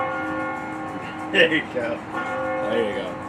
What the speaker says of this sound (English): you can hear the church bells right now as we speak